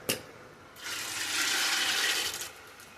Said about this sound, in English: I'm basically just going to add some water to fill the kernels.